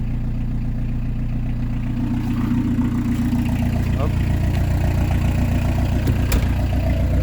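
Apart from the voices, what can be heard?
PSA XUD diesel engine with inline pump idling and revving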